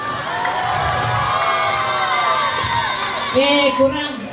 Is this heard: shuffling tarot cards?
no